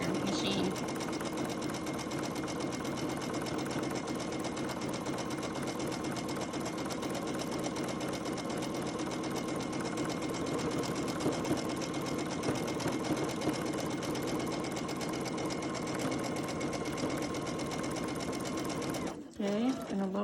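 A sewing machine stitching fabric masks runs steadily and close for the whole stretch, a constant mechanical whir with fine rapid needle rhythm that briefly cuts out near the end.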